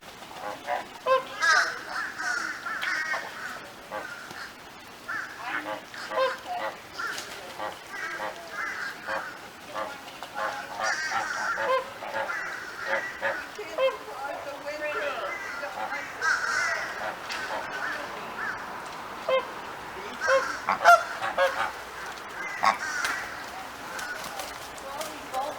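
Flamingos in a flock honk and call in harsh, overlapping bursts that continue throughout at a steady mid level, with people talking in the background.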